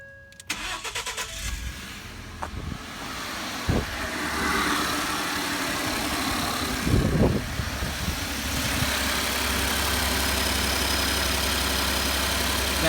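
A 2012 Ford F-150 EcoBoost with a leaking exhaust manifold gasket cranks briefly, fires up cold and settles into a steady, even idle, heard close and alone.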